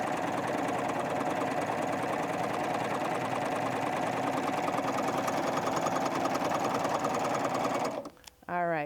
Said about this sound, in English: Get the needles in the fabric and finish serging.